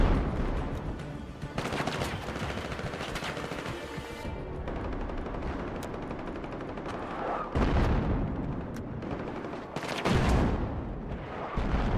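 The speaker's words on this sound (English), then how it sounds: "There's definitely some shooting going on." Gunfire in the video game Battlefield 6, with rapid automatic bursts and several heavy, booming blasts rattling through a continuous battle din, loud and close with no talking.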